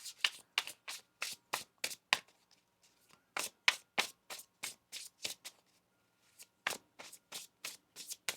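Rapid riffling of a deck of cards in three quick bursts, crisp papery flutters close by with short pauses between, no voices.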